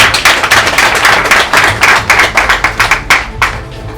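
A crowd applauds at a public community gathering on drug-abuse awareness, with dense, steady clapping from many hands filling the space, loud and close, with no talk over it.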